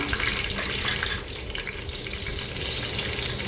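Chopped green chillies frying in hot oil with cumin for veg pulao, a loud, dense, steady sizzle with a brief louder crackle near the start.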